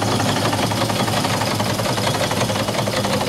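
A quarter-scale steam donkey engine with its boiler runs steadily on a cold day, exhaust going up the stack, giving a loud, continuous mechanical chuffing and rumble with no voices.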